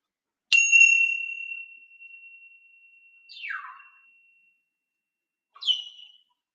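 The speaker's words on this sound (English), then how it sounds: "when we ding this bell, it's to remind us to listen." A small bell is dinged once and rings out with a long, clear, fading tone, followed by two brief, softer chirpy sounds. It is close and alone, with no talking.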